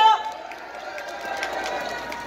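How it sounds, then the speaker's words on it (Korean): Crowd at a political rally welcoming a retired three-star general with applause and cheers, a sustained wash of clapping and voices, fairly distant, with a voice briefly over it at the start. "큰 박수로 환영해 주십시오."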